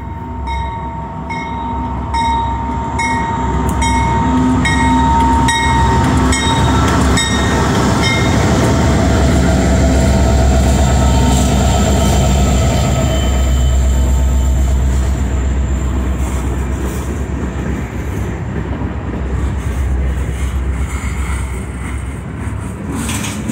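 A heavy Norfolk Southern freight train rumbles past up close in Charlottesville, Virginia, with loud, continuous roaring and clanking, metallic tones and rail noise sustained the whole time.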